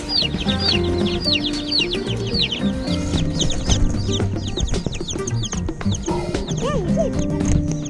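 Dense, constant high peeping from many chicks, overlapping and busy, with occasional lower clucks mixed in.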